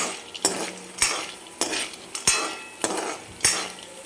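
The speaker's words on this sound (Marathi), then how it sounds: "आणि एकदम सोनेरी कलरवर आपल्याला खरपूस असा भाजून घ्यायचा" Mixed dal sandge being roasted golden and crisp in a pan, a spoon scraping and clinking against the metal in regular strokes about every half second over a soft, low sizzle.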